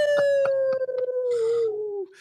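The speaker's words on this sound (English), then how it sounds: "The dogs outside are howling." Dogs outdoors howl in one long, steady, wavering tone that slowly falls in pitch, with a few yips and other canine cries mixed in, loud and close and with no talking.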